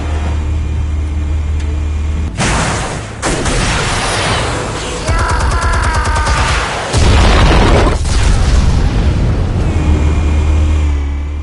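Explosives detonating in a Batman video game: loud booming blasts and rumbling bursts over a steady low drone, with a heavy detonation around the middle and deep rumble following.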